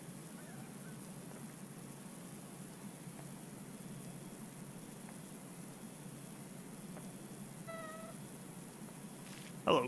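A cat in PowerWash Simulator 2 gives a single short meow, fairly faint, under a constant wash of spray-like hiss, followed by a sudden louder burst at the end.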